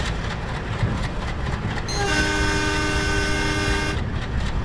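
A train running in Train Simulator Classic on an Indian route toward Dindigal, steady rumbling wheel and carriage noise with a long sustained horn blast through the middle, no speech.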